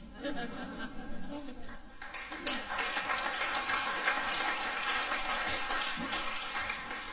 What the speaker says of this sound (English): We trust that you know you are applauding yourselves, yes?